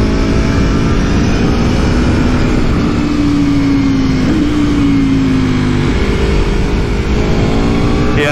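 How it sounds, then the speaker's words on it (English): A 2020 Aprilia Tuono V4 1100 Factory super naked motorcycle with its V4 1100 engine pulls hard and loud under riding, a steady high drone that rises in pitch, briefly dips as it shifts, then climbs again with continuous wind rush. "It's certainly fast enough. I mean, it's that V4 1100 engine,"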